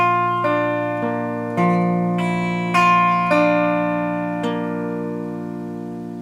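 A guitar chord is strummed once, then picked out note by note as an arpeggio, each string ringing in clearly and sustaining alone with no talking.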